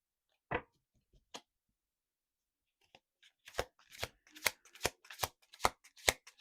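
Tarot cards being shuffled, a few isolated soft taps and then a run of crisp riffling bursts in quick succession, close and quiet.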